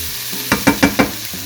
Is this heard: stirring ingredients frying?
yes